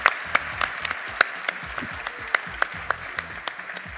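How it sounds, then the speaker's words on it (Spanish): Audience at a business innovation seminar claps in a thin, sparse burst, individual sharp claps standing out over a soft continuous patter for a few seconds. "Un fuerte aplauso para él."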